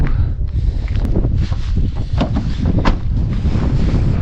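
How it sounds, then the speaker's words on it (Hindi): Icy cold wind blowing at Baralacha Pass in the Himalayas at minus four degrees, loud gusty roaring buffeting close to the microphone in uneven surges, no speech. "बहुत ही ठंडी बर्फीली हवा चल रही है।"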